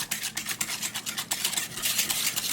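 A pestle working aioli with olive oil in a mortar, rapid rhythmic scraping and swishing strokes, close and fairly loud, with no voices.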